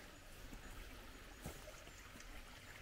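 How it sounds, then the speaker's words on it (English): Water flows steadily through a canal over bedrock in an infiltration system, a soft continuous trickling and rushing heard nearby with no speech, gentle and even throughout. "Water flowing here."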